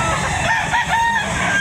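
Rooster crowing at an outdoor chicken market behind SM City Lipa, Batangas: a loud, close, drawn-out crow with harsh warbling tones, filling the whole moment over busy background noise.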